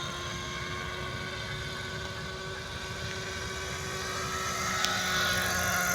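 A Hirobo radio-controlled helicopter engine runs in flight over an open field, a steady, loud, high-pitched whine with a constant rotor drone that swells slightly toward the end.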